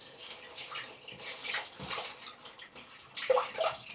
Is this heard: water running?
yes